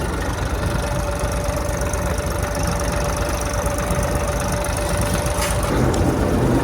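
A tractor engine idles on a farm, a steady, close, even drone with a faint whine running through it that holds unbroken for the whole stretch and changes slightly near the end.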